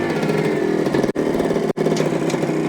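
A 1973 Suzuki TC125 motorcycle engine runs steadily close by with a buzzing two-stroke drone, cut by two brief near-silent drops.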